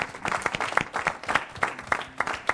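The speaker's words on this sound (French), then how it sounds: "Le prophète Éric Élisée Kouakou, que nous acclamons." Church conference audience applauding a prophet, a dense, steady patter of many hands clapping at moderate distance.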